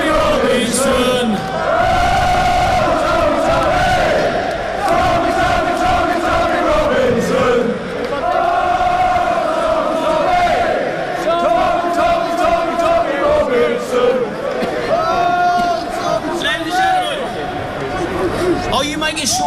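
A large crowd at a street march chants loudly and continuously in unison, rhythmic repeated phrases with cheers rising over a dense, steady roar of voices.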